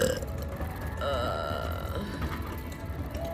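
A person lets out a long, loud belch that stretches for several seconds against steady background noise.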